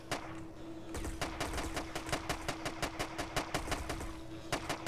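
Rapid bursts of gunfire in GTA San Andreas crack out in quick succession, sharp and loud, over a steady mechanical hum, with a few brief pauses between volleys.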